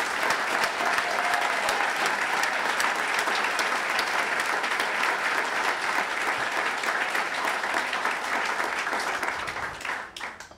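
An audience gives a host a long, loud round of applause at an event about Austin's 1970s music scene. Dense, even clapping continues and then tapers off abruptly near the end.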